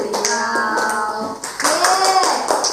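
A sixth-grade class doing the PPK rhythmic clapping chant, a quick patterned burst of sharp hand claps by many children, with chanting voices over the claps.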